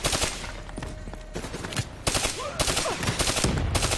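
Gunfire in the Black Ops III video game as vats are shot, rapid bursts of automatic fire and loud blasts in dense clusters with brief gaps, no speech.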